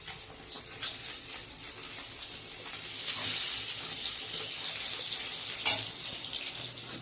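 Fish fries in a pan on a stove, giving a steady hissing sizzle that swells slightly midway, with a brief louder clatter near the end.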